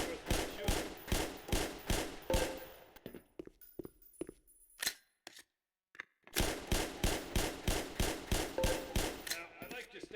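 Gunshots fired at shooting range targets in the video game Black Mesa: rapid evenly spaced sharp reports in two bursts, separated by a brief gap with a few scattered shots and near silence.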